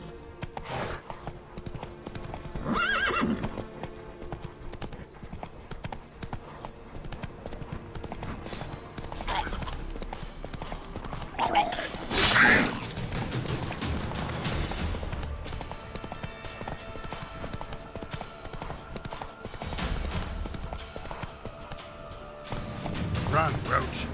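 Roach, the horse in The Witcher 3: Blood and Wine, gallops with rapid, continuous hoof clip-clops close by throughout, mixed with game ambience and a few sharp thuds while characters talk over it.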